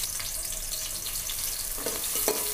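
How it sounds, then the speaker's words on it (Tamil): Chopped onions frying in ghee and oil on high flame for chicken biryani, a steady low broadband hiss with a few brief crackles toward the end. "இப்போ நம்ம கட் பண்ணி வச்சுருக்க வெங்காயத்தை இதில் சேர்த்துடலாம்"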